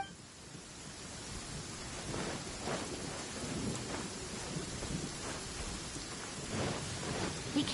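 A thunderstorm in Genshin Impact brings continuous rain hiss with low, rolling rumbles of thunder swelling and fading throughout, with no voices.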